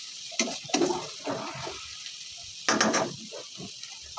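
Tomatoes dropped into a hot frying pan while cooking mutton masala, with a couple of sharp sizzling bursts and softer frying crackles in between, close and fairly quiet.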